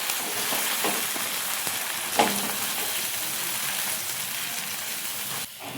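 Mushrooms tossed with Suhana masala in a hot frying pan give a steady, close sizzle, with a sharper scrape of the spoon partway through and a brief dip near the end.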